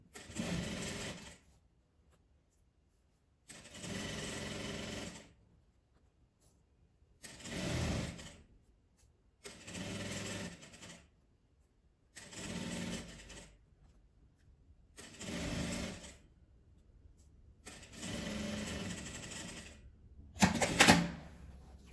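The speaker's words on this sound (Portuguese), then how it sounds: "eu vou dar um retrocesso em 2 pontinhos só para prender o início dessa costura" Domestic sewing machine stitching a fabric hair scarf seam, with a brief backstitch at the start: repeated bursts of close motor whir, each a couple of seconds long, separated by quiet pauses, plus a sharper clunk near the end.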